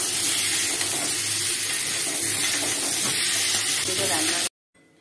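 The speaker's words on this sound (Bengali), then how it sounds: "একদিকে চিকেন কষা হচ্ছে আর এই যে আলু হচ্ছে" Chicken sautés in a pan for a home birthday cooking, a loud steady sizzle and hiss with faint stirring, cutting off abruptly near the end.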